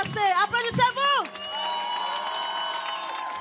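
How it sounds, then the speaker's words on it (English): At a live rap concert at Antipode in Rennes, a shouting voice over a microphone gives way to a crowd cheering, whooping and clapping, the noise sustained and fairly loud after the voice stops. "Maintenant, applaudissez-vous,"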